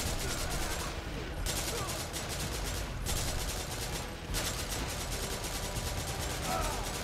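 Sustained automatic gunfire from the video game Devil's Third, dense rapid bursts filling the whole stretch with brief pauses, loud and close with no clear talk over it.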